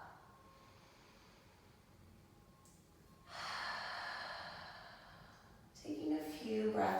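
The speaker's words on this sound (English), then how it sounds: "Taking a few breaths here." Deep breathing during a gentle prenatal pilates stretch: a long, audible breath swells mid-clip and fades, followed by a louder, sharper inhale-exhale near the end, all fairly close over a faint background hiss.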